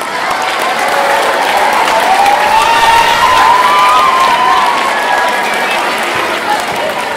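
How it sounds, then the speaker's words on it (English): School awards-ceremony audience of students, parents and grandparents gives the tech crew a loud round of applause, dense clapping mixed with cheering and a few shouted voices, sustained throughout. "Derek and Wes, our tech guys, give them a round of applause"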